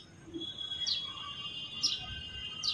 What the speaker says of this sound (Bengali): চড়ুই পাখিটার গলায় অনেক জোর শোনা যাচ্ছে